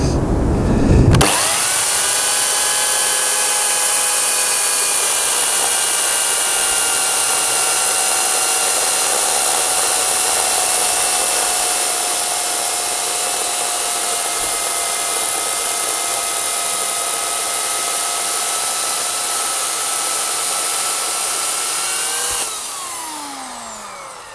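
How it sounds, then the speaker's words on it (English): An Oregon CS1400 electric chainsaw starts up and whines at a steady high pitch while cutting through an oak log, then winds down at the end. "demonstrate how this chainsaw cuts through it"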